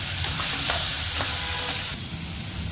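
Masala spices stir-fry in a pan with salt, giving a steady loud sizzle with faint scraping stirs, close and continuous with no talk.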